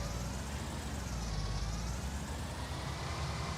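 A tractor engine rumbles steadily in the video game Farming Simulator 19, a constant low drone that holds at even loudness without any clear speech.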